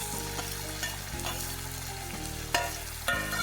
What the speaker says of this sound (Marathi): तर टोमॅटो सुद्धा आपण छान तेलामध्ये परतून घेऊयात।